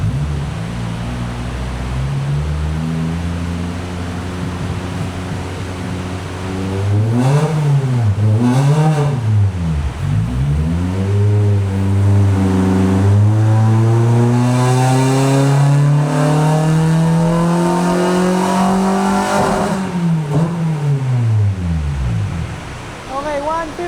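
A Honda car engine with VTEC runs on a dyno. It gives a few quick blips and revs, then one long, loud climb in pitch toward high RPM before dropping back, all recorded close up.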